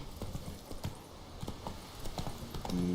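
Hooves clop rhythmically as a horse gallops in The Witcher 3 video game, a steady close drumming of footfalls over faint ambient game sound.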